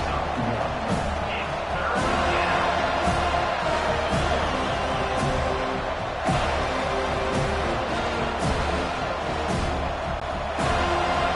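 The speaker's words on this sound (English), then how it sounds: "Here comes this home crowd as the defense tries to get off the field on third down." A home stadium crowd in the video game College Football 25, Clemson Tigers vs Florida State Seminoles, roars steadily as the defense tries to get off the field on third down. Broadcast commentary runs over it.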